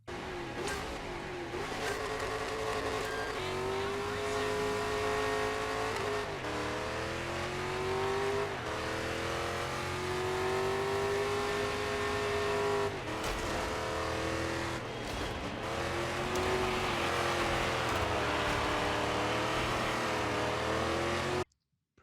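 A Ford Mustang revs hard in the Dirt 5 racing game. The loud, continuous engine note climbs and falls through gear changes for about twenty seconds. No one speaks over it.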